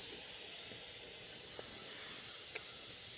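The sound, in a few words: air mattress deflating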